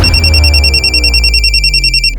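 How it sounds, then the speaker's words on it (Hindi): An electronic telephone ringtone trills in steady repeating bursts, loud and close, with no talk over it. "लो फोन।"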